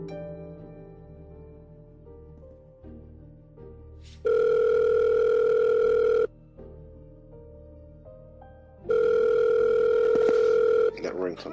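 A loud, steady electronic telephone ring tone in the video game Murder on the Orient Express sounds in two long bursts, each about two seconds, with quiet game ambience and soft tones between them.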